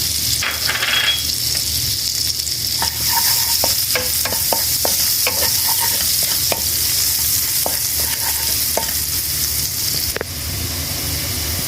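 Chopped garlic sizzles steadily in melted butter in a pan, with a constant loud frying hiss and occasional scrapes and taps as it is stirred.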